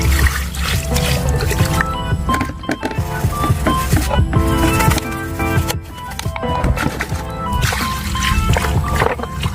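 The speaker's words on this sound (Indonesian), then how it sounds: "Oke, sekarang tinggal kita bilas saja." Water splashing and trickling as a knife blade is rinsed after rust removal, loud close pouring and dripping that continues throughout.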